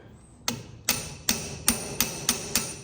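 A tool loosens a slotted cap on a trailer after penetrating oil, giving seven sharp, evenly spaced metallic impacts about every half second, close and distinct over a quiet background.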